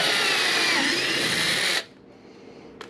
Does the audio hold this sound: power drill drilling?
yes